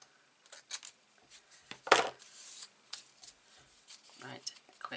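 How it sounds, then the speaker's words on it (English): A single crisp snip-and-rip of large scissors slicing through paper, with light rustling and handling noises before and after, close by. "Large scissors, and Gaynor."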